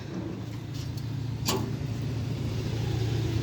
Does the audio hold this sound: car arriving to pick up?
yes